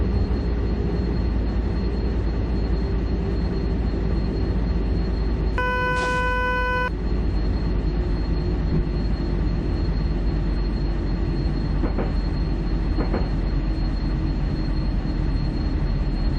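Train running in the German-language Zusi train simulator game: a steady, loud rolling rumble throughout, with a brief tonal horn-like blast partway through and a couple of faint squeaks later.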